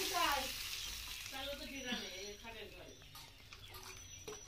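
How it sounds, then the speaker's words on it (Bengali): Water goes into a pan of frying onions in a home kitchen, producing a soft hiss and sizzle. A voice talks over it throughout. "পরিমাণ মতো জল দিয়ে দিলাম"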